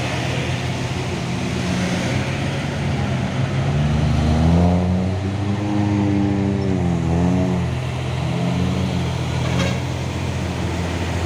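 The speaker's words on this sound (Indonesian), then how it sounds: "Pasukan truk Fuso Oren beraksi melewati tanjakan Bukit Kodok." Heavy Fuso and Isuzu trucks roar and strain continuously climbing the steep Bukit Kodok hill, the pitch rising and falling as they labor and rev, loud and close with constant road noise.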